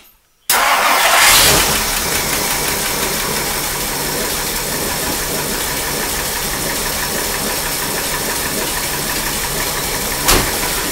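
A 1959 Mercury Monterey that sat unused for a decade cranks and catches after a brief silence, then settles into a steady, loud idle close by, with a short knock near the end.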